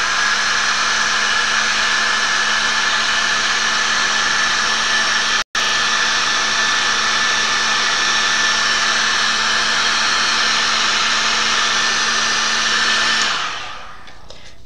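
A heat tool runs steadily on chipboard embellishments for a mixed media Christmas card, a loud continuous whirring blow with a steady tone, one brief cut near the middle, then switching off near the end.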